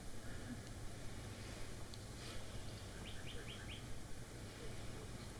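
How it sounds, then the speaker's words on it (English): A small bird sings outdoors, giving a short burst of four or five high chirps far off and faint beneath a steady hiss of background noise. "You're listening to this bird singing."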